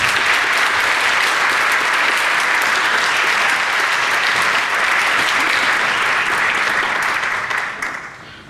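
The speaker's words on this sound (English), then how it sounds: "And they'll applaud you." Sustained applause from a concert audience for an intermediate string orchestra at a Christmas strings concert, loud and dense throughout, then tapering off in the final second.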